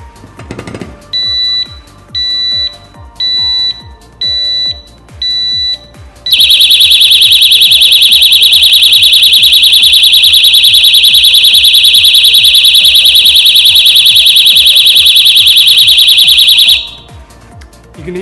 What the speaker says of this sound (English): You can hear the 120 decibel alarm sounding to scare off any potential thief.